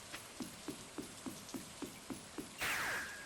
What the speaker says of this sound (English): No, it's raining here. It's miserable here.